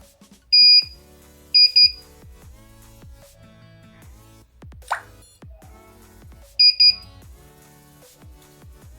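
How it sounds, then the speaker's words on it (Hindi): An ECO 5 alarm device gives sharp electronic double beeps three times, spaced a few seconds apart, each pair loud and close among quiet clicks and handling noises. "देन थर्ड टाइम जो डबल बीप बजता है उसका मतलब ये होता है कि डिवाइस ने रिस्पॉन्स भेज दिया है अपने फ़ोन में"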